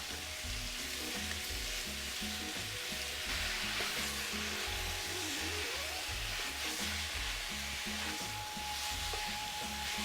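Grated courgettes sizzle steadily in a hot pan, a continuous dense frying hiss with a low, rhythmic rumble underneath, close and fairly loud throughout with no talking.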